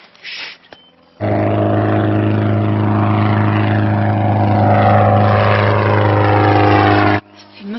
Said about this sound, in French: c'est pas une motoneige, c'est un moteur d'avion